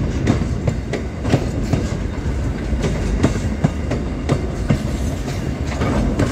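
A Steel Horse locomotive rolls through the Bluescope steel yard in Australia with a loud, continuous rumble and a regular clickety-clack of wheels over rail joints, with no voices.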